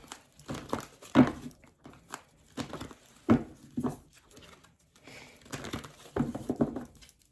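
A thick tarot card deck being handled and split, heard as soft papery crinkles, riffles and taps in irregular bursts, quiet and close.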